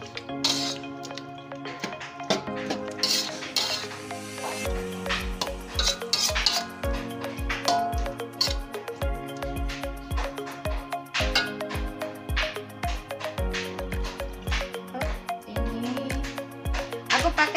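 Semur jengkol stirred in a pot, with a spoon scraping and clinking against the metal in a steady repeated rhythm, close and fairly quiet, with light background music.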